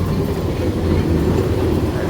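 A train rumbles past close by, a dense, steady low roar filling the whole moment without a break.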